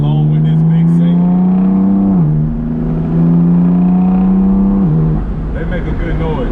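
A BMW M4 with ARM resonated downpipes and a big single turbo drones steadily from inside the cabin, a loud smooth exhaust tone that rises through the gears with two quick shift dips, and a voice speaks over it.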